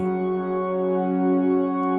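Sustained synthesizer pad chords hum smoothly and evenly, layered tones holding without a break, soft and warm with nothing else playing.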